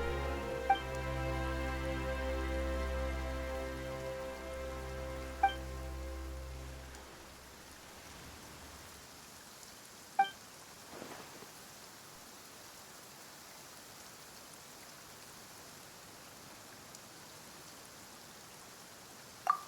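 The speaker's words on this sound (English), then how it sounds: "Why is it raining all of a sudden?" Steady rain hisses over a scene in Genshin Impact, a broad even wash under a fading musical tone, then a softer drizzle with a few isolated drips and taps.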